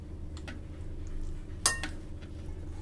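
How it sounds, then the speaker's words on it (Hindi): A spoon works through pasta salad in a bowl, giving faint scraping movement and one sharp clink against the bowl midway, fairly close and without talk. "अच्छी तरह से इसको मिक्स कर लेंगे।"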